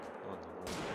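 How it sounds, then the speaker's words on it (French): Gunfire rings out in the hunting game theHunter: Call of the Wild, a dense burst of shots that swells louder near the end of the brief moment, with no talking over it. "c'est quoi ces tirs? Qu'est-ce que c'est que ça?"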